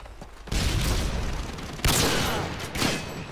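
Sniper rifle fire rings out in the video game Modern Warfare 2, with two sharp, loud blasts whose echoing tails roll on between and after them, and no talking.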